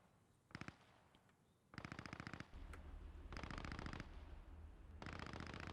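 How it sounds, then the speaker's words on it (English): Machine gun fire from the WWII game Post Scriptum comes in several rapid bursts of clattering shots: a short burst, then longer sustained strings over a low engine-like drone, all sounding somewhat distant. "Few machine gun bursts going on."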